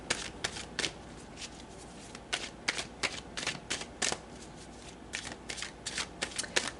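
Tarot cards being shuffled by hand in a quiet room, a run of soft riffling bursts and crisp slaps coming in irregular clusters, close and fairly quiet, with no voices.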